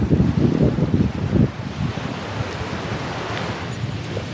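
Ocean waves wash onto a white sand beach under a small parasol, a loud rushing surge early that eases into a steadier, softer wash mixed with wind buffeting the microphone.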